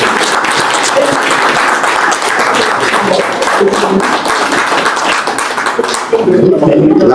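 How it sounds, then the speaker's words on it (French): Public at an embassy press cocktail for Haiti applauds loudly and close, a sustained burst of many hands clapping with voices talking over it, growing louder near the end. "j'invite le public à l'applaudir"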